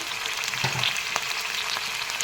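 Chicken meat frying in a hot pan for a chicken and cauliflower curry, giving a steady close sizzle with a few brief stirring clatters and no talk.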